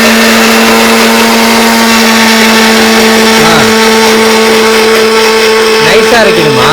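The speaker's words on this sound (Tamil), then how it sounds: "அரைக்க ஆரம்பிச்சாச்சு" A kitchen mixer grinder blending green chillies and ginger: a loud, close, continuous motor whine with a steady pitch, with faint voices briefly audible under the roar.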